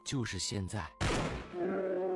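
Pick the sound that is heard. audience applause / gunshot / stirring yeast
gunshot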